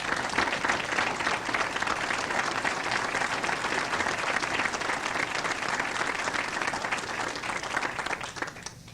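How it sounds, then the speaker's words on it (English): Sustained applause for Mary at a 1996 dinner, a dense, steady clapping from the gathered guests that holds evenly throughout and tapers off right at the end. "Please give her a round of applause."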